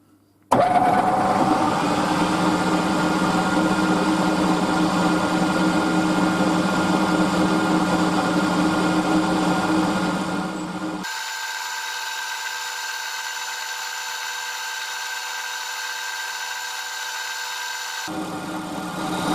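A milling machine climb-mills across a metal bottle opener blank, making a steady, loud machining whir that runs for about nineteen seconds. Its tone and level shift partway through the cut.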